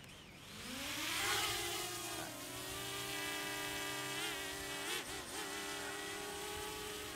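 A mini drone taking off and flying near a lake, its small rotors giving a high whining buzz that rises in pitch as it lifts and then holds steady with slight wavering, close and alone.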